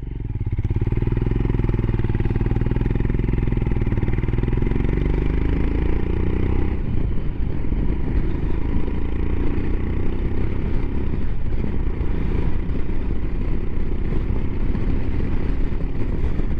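A Royal Enfield Himalayan motorcycle engine runs loud and close, its steady thumping rumble rising in quick blips of revving, with mechanical clatter and no talk.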